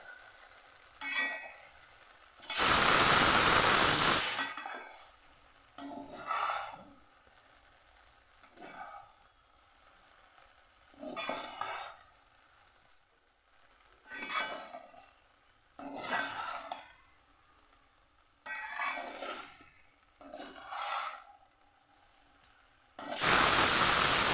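Chopped okra tossed with chili powder in a pan, stirred in repeated scraping bursts with short pauses, one loud sizzling hiss near the start and another at the end.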